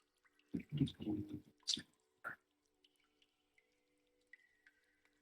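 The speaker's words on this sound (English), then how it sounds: "You hear a faint dripping sound, which this track is perfect for" Faint, sparse water drips from an ambient track play during a tabletop fantasy roleplaying session set around Daggerford. Isolated soft drops fall at irregular intervals after a brief louder burst of activity.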